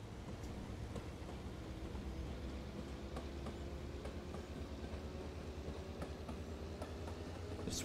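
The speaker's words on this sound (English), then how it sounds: "Wait for this train." A train runs in the railway-building video game Mashinky, a steady rumbling roll with regular clicking wheel beats, loud and continuous with no talk.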